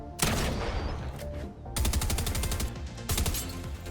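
Rapid bursts of gunfire from a Havoc shotgun and SMG in Fortnite, with bullets striking the ground: three loud, dense volleys, each about a second long, separated by short gaps.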